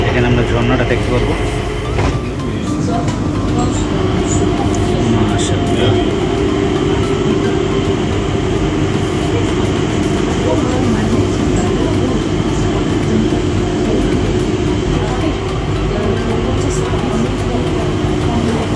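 The Changi Airport Skytrain in Singapore rumbles steadily as it arrives and runs, a loud continuous rolling drone inside the airport with brief voices talking over it.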